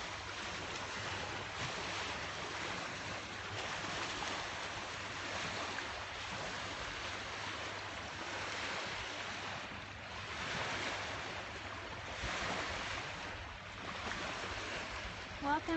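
Waves wash the Sea of Galilee shore at Tiberias, a continuous surging rush that swells and recedes every few seconds under gusts of wind on the microphone.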